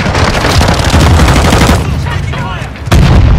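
Rapid M4 rifle fire in a first-person shooter video game, loud sustained automatic bursts, a brief pause, then another burst, with a player's voice faintly underneath.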